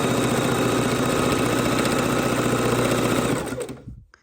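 A sewing machine runs in one continuous close burst for about three and a half seconds, stitching straight across folded fabric, then stops abruptly.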